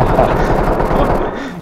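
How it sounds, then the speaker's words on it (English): Gunfire in the tactical shooter Ready or Not, a dense burst of loud rapid shots with booming echoes filling the whole stretch, fading slightly toward the end. "Oh, I guess we should chase that gunfire."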